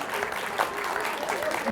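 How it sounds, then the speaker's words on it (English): A theater audience applauds following a season announcement naming the musical Hairspray, a dense wash of clapping with some murmuring voices mixed in, steady and fairly loud throughout. "That was a collective gasp, and then there was some applause"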